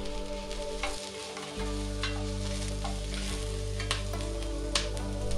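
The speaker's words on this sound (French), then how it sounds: "faire revenir une minute l'ail, l'oignon, l'anis étoilé, la cannelle, le gingembre et les bâtonnets de citronnelle" Garlic, onion, star anise, cinnamon, ginger and lemongrass sticks frying in oil for a Vietnamese braised beef, a steady hiss over a low constant hum, with a few utensil clicks, close and even.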